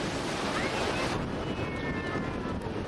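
Surf washing onto a beach strewn with seaweed, a steady broad rush of breaking waves mixed with wind buffeting the microphone, continuous and fairly loud throughout.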